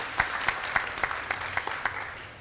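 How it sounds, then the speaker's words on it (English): A graduation ceremony crowd claps for the Chancellor in a steady, rhythmic beat of evenly spaced claps, several seconds long, loud and close. "can we give him another clap?"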